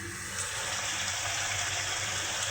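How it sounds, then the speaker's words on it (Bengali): Water poured into a cooking pot of braised chicken curry in a home kitchen, a steady close gushing pour that runs evenly for the whole stretch with no talk over it. "তো এখন আমি এখানে পানি একটু দিয়ে দেবো"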